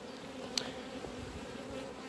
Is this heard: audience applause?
no